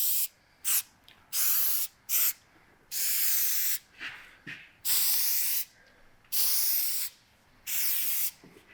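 A spray can fires short, sharp bursts of hissing mist onto the truck parts of a GMC Sierra LLY Duallyy, some quick and some held for about a second, with quiet gaps between them, up close.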